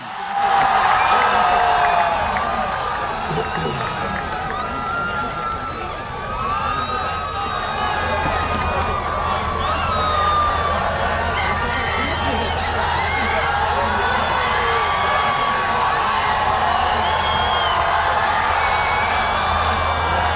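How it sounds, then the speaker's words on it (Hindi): At a university address in Lahore, an audience applauds and cheers for a sustained stretch, a broad continuous wash of clapping and crowd noise with amplified tones and voices mixed in. "आपकी भरपूर तालियों में दावत दूंगा चेयरमैन PITB साबिक वजीर आजम इमरान खान"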